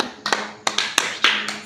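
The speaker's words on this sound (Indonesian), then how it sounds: "Tepuk tangan untuk Ira" Several sharp hand claps from a small group in a classroom, praising a pupil named Ira, arriving in a few uneven bursts close to the listener over about two seconds.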